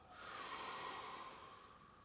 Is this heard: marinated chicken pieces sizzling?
no